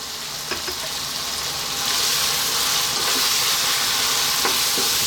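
Turmeric, cumin, chili and coriander powders sizzling in a hot pan for biryani, a bright, steady frying hiss with a few soft stirring clicks, growing slightly louder partway through.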